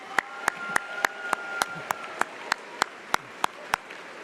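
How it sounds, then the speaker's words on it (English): A single person claps in slow, evenly spaced beats, about fourteen sharp claps over a hum of room noise and a faint sustained tone, after graduates are called for a round of applause at a school graduation ceremony. "Let's give our graduates one more big round of applause"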